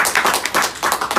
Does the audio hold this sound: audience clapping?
yes